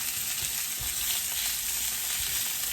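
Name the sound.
carrots searing in a hot pan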